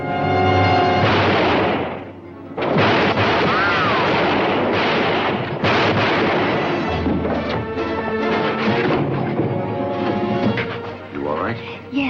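Several gunshots crack out in a western shootout, loud and close, set against a dense bed of dramatic orchestral score, with sharp bursts near the start and around the middle.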